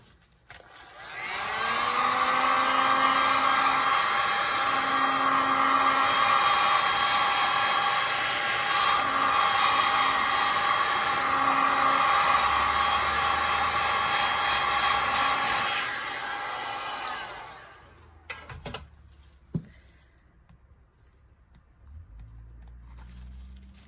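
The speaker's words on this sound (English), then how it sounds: "Heat gun." A heat gun blows steadily across resin, a loud continuous airy whine lasting about fifteen seconds before it switches off, leaving faint handling noises.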